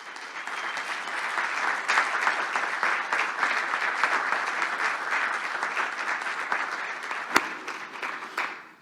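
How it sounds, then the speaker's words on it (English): An audience at a business breakfast event gives a round of applause, dense steady clapping that swells and holds for several seconds before tapering off, with one sharp click near the end. "just ask that you join me in a round of applause"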